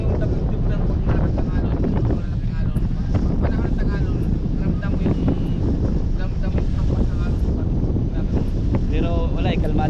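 Strong outdoor wind blasting steadily across the microphone with a constant loud roar, while a voice talks intermittently underneath.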